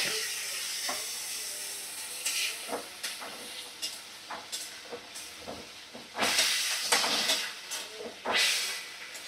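Water is splashed into hot oil where eggs and potatoes are frying for a biryani, setting off a loud, steady hiss and sizzle with repeated crackling bursts and spitting pops, no talking.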